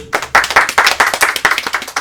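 A small group claps to welcome a girl named Ambre, loud close hand claps in a fast, fairly regular rhythm with a dense cluster in the middle.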